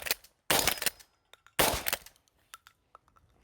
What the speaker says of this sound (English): Just for fun, let's shoot again.